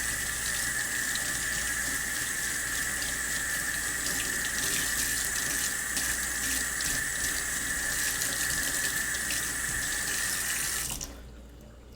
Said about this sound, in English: that's why you want to wash this knife and this board as soon as possible